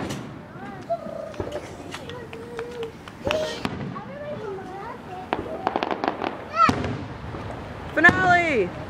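Fourth of July fireworks exploding in a series of booms, pops and crackles at irregular intervals, with people talking and exclaiming between the bursts.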